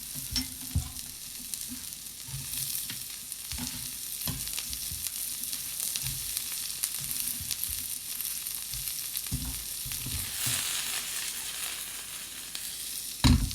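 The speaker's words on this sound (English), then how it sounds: "We're going to add shallots." Shallots sizzle and fry steadily in a piping-hot pan, a dense continuous crackle with occasional stirring scrapes and louder bursts, close and alone with no talk.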